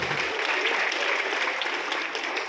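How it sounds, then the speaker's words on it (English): An audience claps steadily together at a motivational speech event, a dense, even wash of applause that holds at a consistent level for the whole stretch with no voices on top. "So can we clap for both of them once again?"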